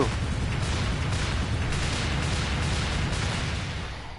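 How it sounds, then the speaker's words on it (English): A dense, loud, continuous burst of explosive noise from the Freedom Planet video game as the character Lilac dies in an explosion of feathers, holding steady and then fading slightly at the end. "it is a neat touch that Lilac dies in an explosion of feathers"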